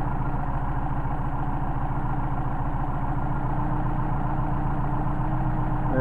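A Mercedes 190SL engine with Solex carburetors idles at about 750 to 800 RPM, a steady, even, low rumble with a regular pulsing beat, close up and unbroken, with no voices.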